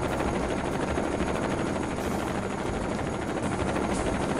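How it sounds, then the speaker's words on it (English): Helicopter hovering overhead in the video game SWAT 4, a loud, dense and continuous rotor and engine roar that fills the scene without pause, with no talking. "I wish that chopper gets out of my area so I can hear the suspects."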